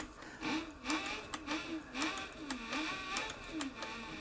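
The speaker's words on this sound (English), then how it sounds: "I'm sewing without a guide." A CB4500 sewing machine stitching fabric without a guide: a steady, rhythmic mechanical whirr with regular ticking needle strokes about twice a second, close and fairly quiet, with no talking.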